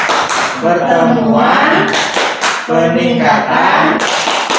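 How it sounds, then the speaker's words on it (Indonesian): A group claps the rhythmic P2K2 clap together to open a family-support meeting, with sharp patterned hand claps ringing alongside voices chanting and speaking. "Yuk, kita bareng-bareng tepuk P2K2 untuk memulai pertemuan kali ini."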